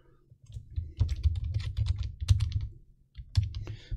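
Fingers type on a computer keyboard while a password is entered during first-time Raspberry Pi setup, a close run of rapid, uneven key clicks with a brief pause before a final burst.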